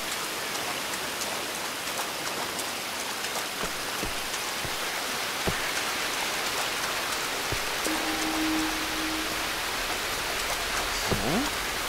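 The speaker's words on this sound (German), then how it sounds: "So, okay, es regnet." Rain falls steadily in the video game Tomb Raider: Definitive Edition, a dense, even hiss of drops on surfaces that fills the whole stretch, with a few faint tonal game sounds near the end.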